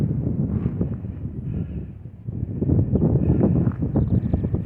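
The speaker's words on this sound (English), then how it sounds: "there's a lot of wind here" Strong gusty wind at a California wind farm buffets the microphone in low, rumbling bursts, rising and falling irregularly, close and loud with no voices.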